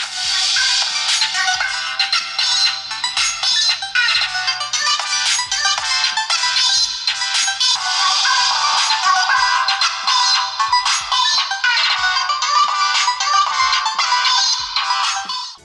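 Tinny music plays through a small Nokia 150 phone speaker, thin and treble-heavy with no bass, steady and continuous throughout.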